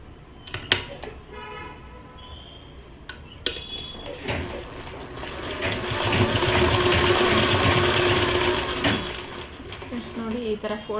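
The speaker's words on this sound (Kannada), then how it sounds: "ನಾರ್ಮಲ್ ಹೊಲಿಗೆ ಹಾಕೋಬೇಕು ಫ್ರೆಂಡ್ಸ್ ಇವಾಗ." A sewing machine runs a plain stitch through folded fabric after an overlock-style zigzag step, its motor whirring steadily for several seconds in the middle with a few clicks and knocks around it and no talk.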